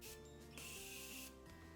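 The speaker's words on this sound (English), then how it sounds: "We're gonna go ahead and hit it one time with a setting spray." A single sustained spritz of Airspun makeup setting spray, a close, bright hiss lasting under a second over a faint background.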